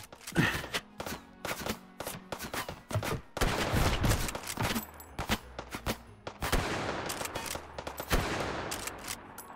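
Pistol fire in the VR game Hot Dogs, Horseshoes & Hand Grenades cracks out in rapid, irregular volleys of loud close shots, with short pauses between clusters.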